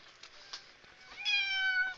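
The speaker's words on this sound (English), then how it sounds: "My fat cat!" A cat gives a single clear, drawn-out meow near the end, following a few faint shuffling sounds in an otherwise quiet room.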